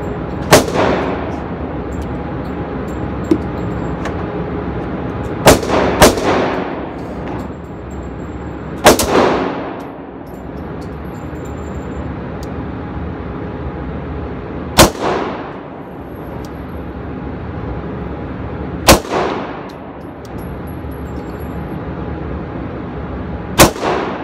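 Gunshots from a Taurus PT1911 pistol during a torture test, loud single reports spaced a few seconds apart, each ringing out with a decaying echo over a steady background hiss.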